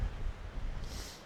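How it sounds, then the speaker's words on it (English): Strong wind gusts buffet a mountain summit, a steady low roar with rustling that swells near the end, close to the microphone and with no voices. "this wind can take you out"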